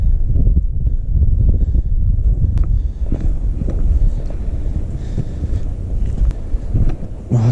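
Gusty wind buffets the microphone beside a river while trout fishing in Graubünden, a loud, rumbling roar that rises and falls throughout with no voices.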